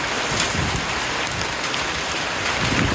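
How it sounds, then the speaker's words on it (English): Hail pelts down outdoors by a road, a dense, continuous rattling patter of hard stones striking surfaces, loud and steady throughout. "that's hail"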